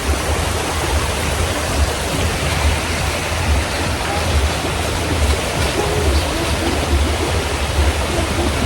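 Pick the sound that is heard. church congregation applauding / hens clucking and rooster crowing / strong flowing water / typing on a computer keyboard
strong flowing water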